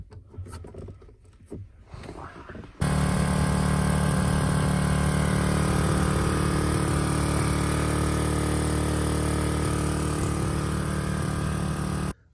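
A barn-find BMW Isetta's small engine starts after a few quiet clunks, then idles fast and loud with a steady buzzing drone before abruptly cutting off.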